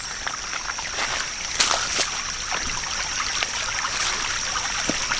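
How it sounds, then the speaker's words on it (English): Water runs down a hiking trail on the Appalachian Trail like a small stream, a steady close trickling and babbling with occasional splashes and faint footsteps, no talk. "Even sounds like a river or a stream."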